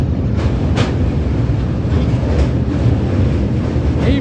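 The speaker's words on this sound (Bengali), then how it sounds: "হুগলি নদীর উপর থেকে ট্রেন যাবে" A train rumbles over a bridge across the Hooghly river on a Sealdah to Bandel run, with loud steady low-pitched rolling noise, heard close and continuous with no voices.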